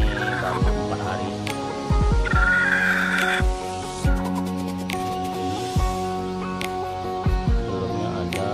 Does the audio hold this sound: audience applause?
no